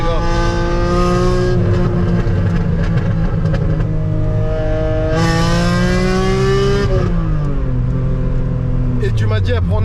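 BMW E46 316 Ti with a swapped M3 engine heard from inside the cabin, revving hard and climbing in pitch through the gears, with a sharp high-rpm pull near the middle and people talking over the loud engine.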